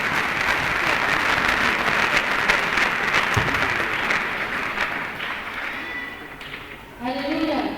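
Congregation applause at a Kinyarwanda gospel church service, a thick, continuous burst of clapping that tapers off before a voice speaks at the end.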